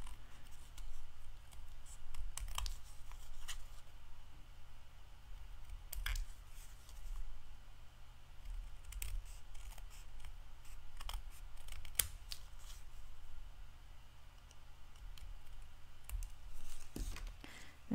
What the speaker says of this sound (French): Faut vraiment couper sur le bord, là.